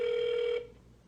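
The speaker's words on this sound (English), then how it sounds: "we can let it ring for another minute" A telephone line on a medical triage hotline call rings with a steady electronic tone that holds for about half a second, then cuts off into a quiet hiss.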